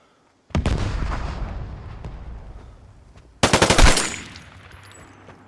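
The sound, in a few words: gunfire in video game Vigor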